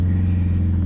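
A Subaru FB20B engine in a 2016 Impreza Sport hums at a steady low drone, a close, constant rumble with no talk.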